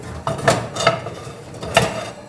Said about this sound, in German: So, nach 25 Minuten holen wir die Zimtschnecken aus dem Ofen.